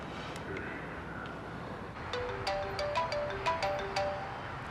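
A phone ringtone plays while a call is placed, a short repeating electronic melody of bright tones over a steady background hiss, moderately loud and alone.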